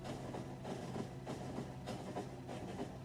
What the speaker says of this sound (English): Ooh, hello oil train.